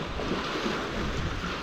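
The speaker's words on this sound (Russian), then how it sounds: "Волны бьются там" Waves break and wash against rocky outcrops on a lakeshore, a steady close roar of surf and wind filling the whole clip with no voices.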